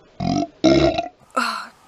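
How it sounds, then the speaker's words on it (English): Three loud, close belches in quick succession from a person during an indoor book chat, the last one shorter and higher, each separated by brief silence. "I thought burp is just what it took to get the frog out of my throat"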